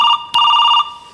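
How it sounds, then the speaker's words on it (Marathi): A telephone rings in a comedy sketch with an electronic two-burst trill, a short warbling pulse followed by a longer repeated warble, close and clear. "तुमचा फोन वाजतोय."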